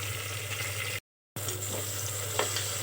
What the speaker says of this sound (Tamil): தக்காளி சேர்த்ததுக்கப்புறம் லைட்டாக கொஞ்சம் வதக்கி விட்டுக்கோங்க